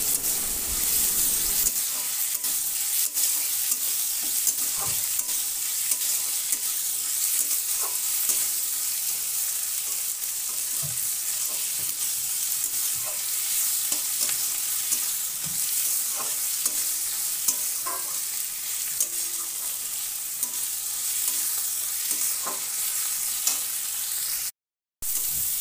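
Green chilies and prawns fry in a pan with onion and garlic, a constant close sizzle broken by repeated scraping stirs of a spatula throughout, briefly cutting out near the end.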